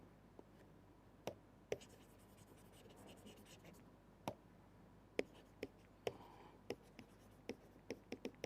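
A pen or chalk taps and scratches on a board during a physics lecture on quantizing a scalar field. Sharp, irregular clicks repeat over a low steady room hum.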